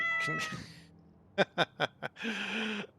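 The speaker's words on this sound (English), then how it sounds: "That's a cat." A cat meows twice, then a quick run of four short chirping cries, followed by a longer drawn-out meow, all close and fairly quiet with no talk over it.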